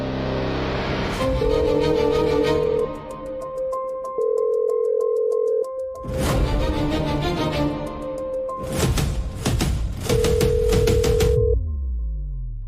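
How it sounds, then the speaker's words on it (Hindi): A phone ringtone sounds repeatedly in bursts with pauses between, ringing on without being picked up. "ये कियारा मेरा फोन क्यों नहीं उठा रही है?"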